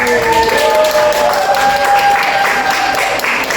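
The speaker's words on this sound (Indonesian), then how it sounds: "Coba tepuk tangan untuk kita semua yang sudah bekerja sama." Classroom applause during an elementary social studies peer-teaching lesson, loud dense clapping from a group of students with voices and a few shouts mixed in, held for a few seconds.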